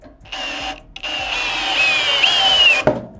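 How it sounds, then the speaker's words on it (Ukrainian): A Dnipro-M CD-202BC Ultra cordless drill-driver on second speed drives a 140 mm lag screw, whirring in a short burst, pausing, then straining in a long rising whine before stopping abruptly with a clack. "Тестуємо глухар 140 мм друга швидкість."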